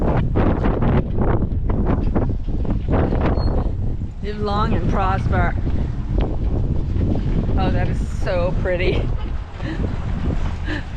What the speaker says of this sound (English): it's really windy in the parking lot